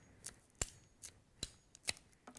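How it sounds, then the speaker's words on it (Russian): Ratchet pruning shears click sharply while cutting a branch, five or six crisp, evenly spaced snaps heard up close with no talking. "Упор, щелчок, все слышали."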